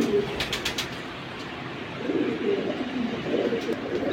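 Large, big-headed pigeons, full aluminium-coloured birds among a collection of Military and Silver Hammer breeds, coo in low, soft rolling bursts that come close and steady, with a few faint higher clicks early on and no talking.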